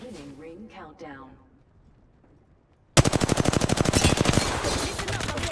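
Rapid automatic gunfire from the video game Apex Legends rattles in a loud, dense burst of evenly spaced shots, following a few seconds of a person talking.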